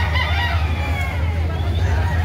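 A rooster at the Carbon market in Cebu crows amid a steady hum of crowd chatter and nearby voices.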